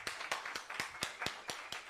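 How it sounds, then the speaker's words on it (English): Faint rhythmic clapping at a website launch event, a steady beat of even claps about four per second, like a small audience clapping together. "Clap for the speakers."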